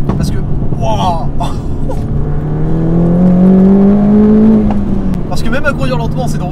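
A Mini John Cooper Works GP with a Ragazzon exhaust drones steadily from inside the cabin, engine note rising as it accelerates, while someone talks over it throughout.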